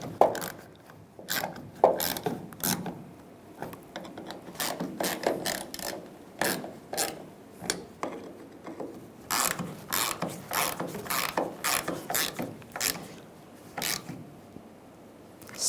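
Ratchet tightening the bolts on a fuel tank filler neck of a 1999-2006 Chevrolet Silverado, a long run of rapid clicking strokes up close with brief pauses between them.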